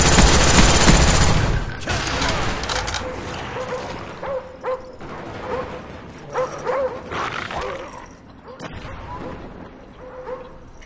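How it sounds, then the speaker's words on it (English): Attack dogs in the shooter game Call of Duty: Black Ops bark and yip repeatedly, mixed with bursts of gunfire after a loud opening volley, fairly close and busy. "Dogs incoming."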